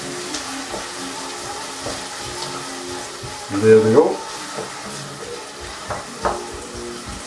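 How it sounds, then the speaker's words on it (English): A steady sizzle of garlic and onion frying in olive oil in a pan, with a brief clatter of utensils and a person speaking briefly. "add them now into our olive oil, and you can hear that frying away"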